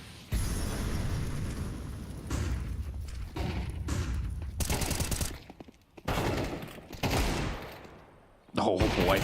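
Bursts of gunfire from a professional esports shooter match in the ESL Challenger League, with pistols in play, rattling in repeated volleys while a caster's excited commentary runs over much of it.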